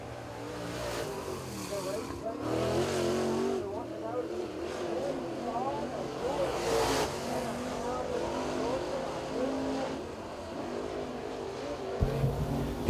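Crate late model race cars roar around the dirt oval at 411 Motor Speedway during qualifying, a steady loud engine drone with rising passes, under continuous announcer commentary.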